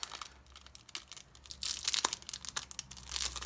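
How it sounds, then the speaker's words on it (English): Tape being peeled and plastic crinkling on a photocard package, with a burst of loud ripping and crackling in the middle and smaller crinkles before and after, close up with no talking. "I'm not good at taking tape off"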